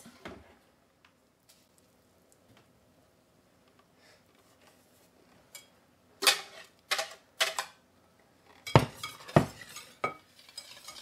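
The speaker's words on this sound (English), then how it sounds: "Just going to whisk the sugar and cornstarch together to make sure they're fully incorporated" Sugar and cornstarch whisked together in a pan for a strawberry sauce: the metal whisk gives quick clinking, scraping bursts in the latter half after a mostly quiet start, with no talking.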